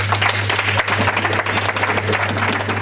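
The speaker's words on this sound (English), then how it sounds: "So please, let's give him a round of applause." Applause from the audience at a Ndoni National Association USA gathering, a steady crowd clapping with a low steady hum running underneath.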